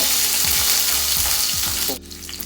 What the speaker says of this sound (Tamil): லைட்டாக பூண்டு பொறிஞ்சிடும்